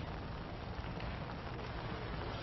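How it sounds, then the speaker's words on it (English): Heavy rain pours down steadily during historic flooding in Columbia, South Carolina, a dense, continuous hiss with no pauses and no voices. "It is raining very, very hard."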